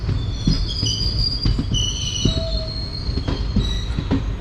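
A passenger train rolls along on the Kanyakumari–Rameshwaram journey with wheels squealing in high, shrill tones over a steady rumble and rhythmic clicks of the rails, heard up close from aboard.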